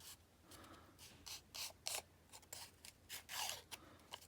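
A folded dollar bill being creased by hand for an origami shirt and tie, giving a series of short, crisp paper rubs and scrapes that come close and fairly quiet, with no talking.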